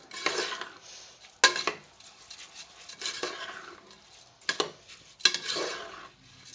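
A spoon stirs washed rice into a tomato bath mixture in a cooking pot, giving a series of scraping, clattering strokes in uneven bursts with quiet gaps between them.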